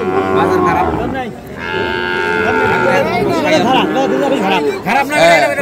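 A Sahiwal bull at a fattened-cattle market in Ambari haat lows loudly and repeatedly, deep drawn-out moos close by, with people talking throughout in a busy market setting.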